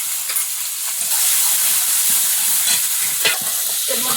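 Vegetables with ginger, turmeric and salt being sautéed in oil outdoors: a loud, close, continuous hiss and sizzle, broken by a few sharper crackles and stirring scrapes.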